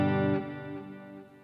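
Electric guitar played through a Tech 21 RK5 Flyrig with the echo on and drift modulation set halfway, a single distorted chord that rings out and decays over about a second and a half.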